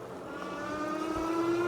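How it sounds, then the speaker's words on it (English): An Engwe LE20 long-range cargo e-bike's electric motor spins up, a soft steady whine that rises slightly in pitch over a low rolling background, fairly quiet and continuous. "And there you can hear the motor coming on."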